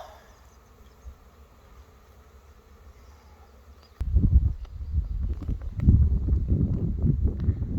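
Dense, steady buzzing of many honey bees around an open hive close by, starting quietly and swelling suddenly into a loud, continuous hum with wind noise.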